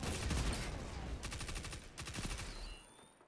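Rapid SMG bursts ring out in a Destiny 2 Iron Banner match, two quick rattling volleys of automatic fire over a low game background, fairly quiet and fading at the end.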